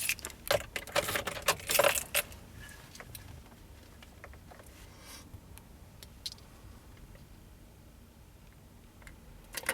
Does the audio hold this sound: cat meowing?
no